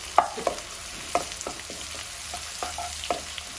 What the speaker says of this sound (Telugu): ఆనియన్ మంచిగా ఫ్రై అవ్వాలి